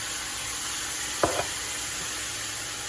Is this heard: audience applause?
no